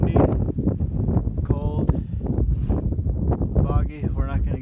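Wind gusts across the foggy summit of Big Bald mountain on the Appalachian Trail, buffeting the microphone with loud, rough rumbling under a hiker's talk throughout.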